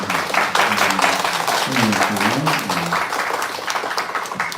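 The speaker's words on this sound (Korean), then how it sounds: "우리 위로의 박수 같이 한번" A Korean church congregation applauds together in a sustained burst of many hands, with voices talking and calling out over the clapping.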